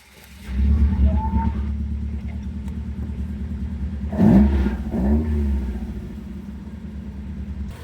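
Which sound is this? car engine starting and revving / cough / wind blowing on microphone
car engine starting and revving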